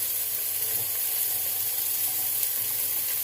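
Chicken fillets browning in hot olive oil give a steady, close, bright sizzle that holds evenly throughout, with no talking.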